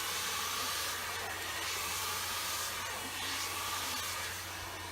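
Steady, close airy rush of a livestock blower drying and lifting an animal's hair at a fitting clinic, holding fairly even for the whole stretch with slight swells, no talk over it.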